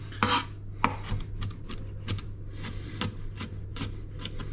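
A knife chops garlic together with anchovy fillets on a board, a run of about a dozen crisp, uneven taps and thuds over a low steady hum, close and clear with no talk.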